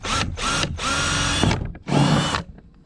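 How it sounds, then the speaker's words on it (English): A power drill with a 3/16 bit bores through the center hole of a rudder mount on a Bonafide SS127 kayak, giving three loud close whirring bursts with short pauses between them. "take your 3/16 drill bit and go right there through that center hole"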